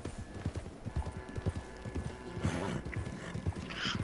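Horse hooves clip-clop in a steady rhythm through a video game played on a PS4, with a brief neigh or whinny near the end. The hoofbeats are close and continuous, and no one talks over them.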